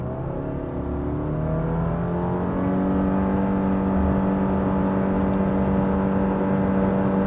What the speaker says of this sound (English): So in sport mode, when you do off the line accelerations, it holds the gear.